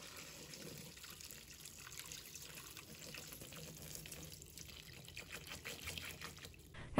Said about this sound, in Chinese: 把它放入盆中， 倒入清水没过茄子